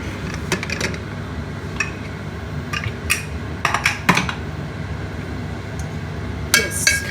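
A pressure cooker being opened after cooking dal, with sharp metallic clinks and clanks of the lid and utensils coming in scattered bursts, close and fairly loud, with no talking.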